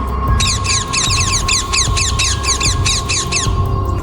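A flock of parrots squawks as it flies off, a dense run of sharp, repeated calls over a steady low background rumble.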